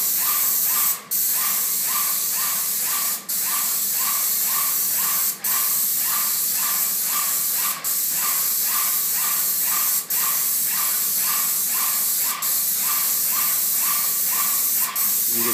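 Airless paint sprayer applying Sherwin Williams CoverMax to Armstrong ceiling tiles: a loud, steady high-pressure hiss running throughout, broken by brief gaps every couple of seconds as the spray trigger is released between passes.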